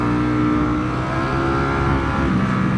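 BMW S1000RR 2025 superbike engine with the throttle released, a steady loud mechanical drone with dense low harmonics continuing without a break, close and alone with no voices.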